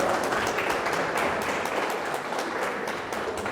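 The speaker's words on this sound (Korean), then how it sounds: "큰 박수 부탁드립니다." An indoor talk-concert audience gives sustained applause, a dense crackle of many hands clapping at moderate volume throughout.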